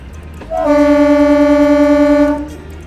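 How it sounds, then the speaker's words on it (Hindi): A Lucknow to Varanasi passenger train pulls out of a station and sounds a loud, steady horn blast lasting about two seconds over a low rumble. "और ये दे दी गई है हरी झंडी, हम ट्रेन निकल पड़ी।"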